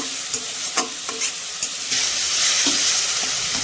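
A Bengali spice masala with a spoonful of sugar being sautéed in a pan, spatula scrapes and taps over a sizzle that swells into a louder, steady hiss partway through, close by with no talk.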